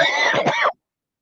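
A single short, harsh cough up close, lasting well under a second, followed by silence.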